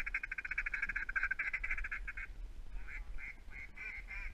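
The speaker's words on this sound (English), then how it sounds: "Dude, that's a mallard." Mallard duck calls out on a duck hunt: a run of repeated nasal quacks, fairly loud and rhythmic at first, then a few separated calls after a short pause, with no talking.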